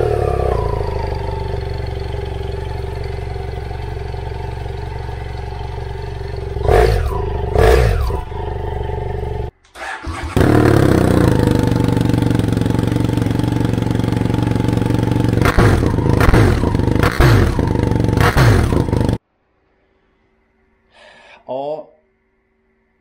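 BMW motorcycle engine idling and revving hard through the original exhaust, then through a replica Akrapovic exhaust with a dB-killer fitted, loud and close, with a brief gap between the runs and silence near the end.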